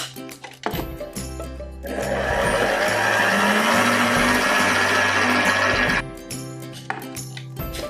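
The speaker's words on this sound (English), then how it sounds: "I can still see some butter that's not incorporated, so we'll just mix a bit more for that butter" An electric mixer churns butter into chocolate biscuit dough, a steady loud whirring drone lasting about four seconds, with quieter motor hum and clinks before and after.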